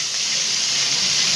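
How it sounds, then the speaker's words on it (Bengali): Pointed gourd (potol) frying in a pan gives a steady, continuous hiss that holds evenly throughout, fairly loud and close, with no talking. "পটল ভাজছি এখন।"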